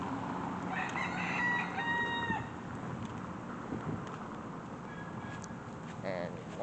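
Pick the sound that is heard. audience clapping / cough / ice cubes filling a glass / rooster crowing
rooster crowing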